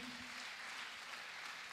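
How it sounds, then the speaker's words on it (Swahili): Faint, distant applause from a congregation at a memorial service: a soft, continuous wash of clapping with no voices on top. "Appreciate them kwa makofi."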